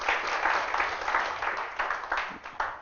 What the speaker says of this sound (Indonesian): Yang mau tepuk tangan buat Tuhan Yesus.